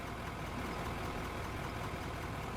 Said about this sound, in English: Get away from the idling loader.